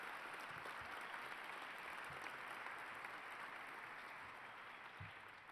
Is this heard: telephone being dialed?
no